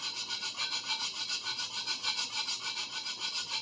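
A Minamito 250mm sujihiki knife heel being sharpened on a whetstone: steady, rhythmic back-and-forth gritty rubbing strokes, close and even, with no talking.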